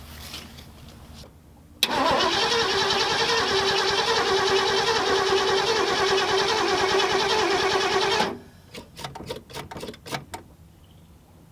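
A Ford Galaxie engine cranks steadily for about six seconds without catching, a loud even churning from the starter, then cuts off into a few faint clicks and knocks.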